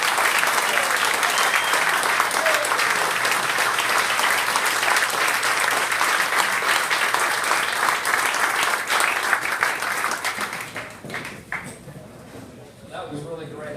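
A club audience welcoming an athletic director with loud, sustained applause that fills the room for about ten seconds and then tapers off into a speaking voice.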